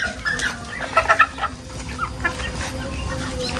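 Chickens cluck in a short run of bursts, close by, near a chicken coop, over a busy farmyard background with a steady high whine.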